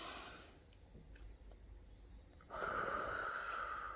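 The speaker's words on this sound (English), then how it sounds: "take a deep breath with me" A slow, deep breath drawn near the microphone in a quiet room: soft, airy rushing that swells midway and holds steady to the end, with no talking.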